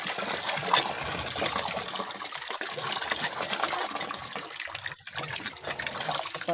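Water from a household pump gushes out in a home bathroom, a steady close rushing stream that runs for the whole stretch with a few brief louder splashes.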